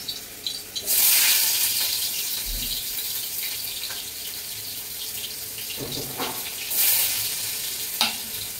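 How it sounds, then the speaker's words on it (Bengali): Potato and pointed gourd curry, cooked over a clay stove, bubbles and sputters in a pot with a steady close simmering hiss, broken by brief louder bursts of boiling and splashing. "ফটফট করে ফুটছে আবার।"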